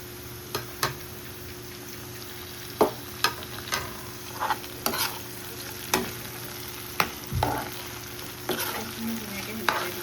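Amita flowers cook in a hot pan, giving a soft steady sizzle broken by irregular sharp spatula taps and scrapes against the pan.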